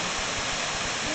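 Water rushes in a steady, dense roar from a woodland waterfall nearby, a continuous broadband wash with no breaks.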